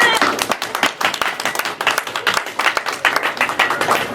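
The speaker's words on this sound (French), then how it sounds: "Alors, acclamons pour le pasteur Michael from London." Audience applauding for Pastor Michael from London at a church community theatre event, dense rapid clapping from many hands filling the whole stretch, steady and lively with a crowd murmur beneath.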